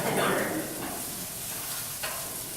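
Food sizzles in hot oil in a pan, a steady close hiss with a brief stir scraping near the start.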